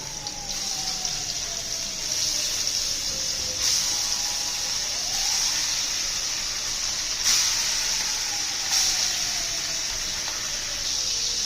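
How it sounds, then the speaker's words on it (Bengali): Fish pieces fry in hot oil in a pan with a steady bright hiss and sizzle, rising in sharp bursts each time another piece goes in. "তেলটা গরম হয়ে গেছে আমি এক এক করে সব মাছগুলি দিয়ে দিব"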